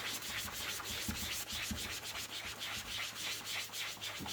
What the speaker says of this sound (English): and rub this